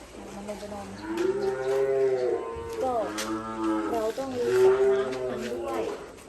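Water buffalo low in a farm pen, several long, deep, moaning calls rising and falling in quick succession, close and fairly loud, with a few faint voices in the background.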